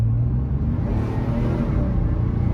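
Mercedes car with an M103 engine and rebuilt KE-Jetronic ECU accelerating on a freeway, a steady loud low engine rumble and road noise throughout, with no talk.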